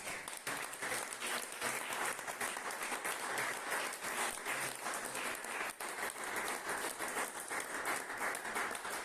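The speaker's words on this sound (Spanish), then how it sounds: "Dale un fuerte aplauso a Dios con todo." Sustained applause from a church congregation during a marriage discipleship service, dense and steady throughout, with a faint voice now and then.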